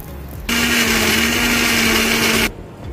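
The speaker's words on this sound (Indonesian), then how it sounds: "kita blender dulu semua bahan-bahan ini" A kitchen blender grinds spice paste ingredients for pindang beef ribs, a loud steady whirring roar with a constant motor tone that starts abruptly, holds for about two seconds, then cuts off.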